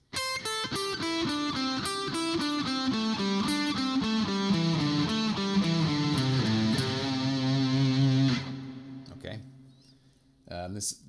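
A fast run of distorted electric guitar notes descending a pentatonic scale pattern, stepping steadily downward in pitch, ending on a sustained low note with a brief ringing tail.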